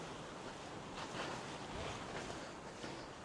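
Steady wind gusting across an overgrown, partly sheltered hillside trail near the Wedgwood Monument in Staffordshire, a broad continuous roar with soft swells and no voices.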